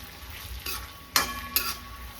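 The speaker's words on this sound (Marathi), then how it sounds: "लसूण आणि आला आपण यामध्ये ॲड करणार आहोत आणि याला आपण छानपैकी परतून घेणार आहोत" Garlic and ginger sauté in a pan with a steady low sizzle and two or three sharp scraping stirs of a spatula close by.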